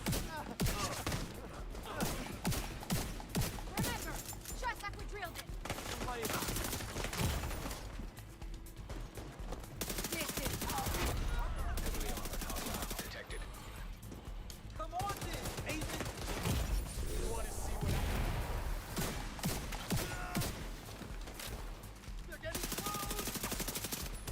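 A turret fires on the player during a heroic PvE mission in The Division 2, with loud sustained bursts of automatic gunfire broken by short pauses, mixed with other weapon fire and a man's speech.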